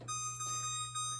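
Kitchen timer going off while marshmallow chocolate chip cookies bake, a steady electronic beeping tone with bright harmonics held over a low hum, close and moderately loud.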